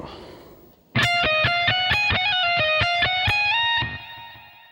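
A distorted electric guitar plays a fast lick from a solo as a quick run of evenly picked notes, with a held note at the end. It is loud and close, and a faint voice trails off just before it starts.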